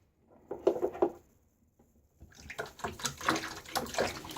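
Water splashes and trickles into a bowl set in a bathroom sink while a face is rinsed after a shave, in two close, patchy bursts of sloshing separated by a short quiet gap.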